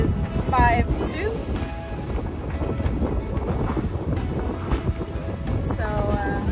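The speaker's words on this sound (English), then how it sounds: "Pretty light winds today." Wind roars in gusts across the microphone aboard a sailboat making about 5 knots in 16-knot winds over low seas, with water washing beneath and someone talking over it.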